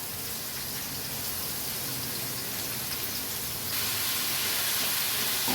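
Onions sauté in a hot pan, giving a continuous dense sizzle like light rain that swells slightly louder partway through, with no one speaking.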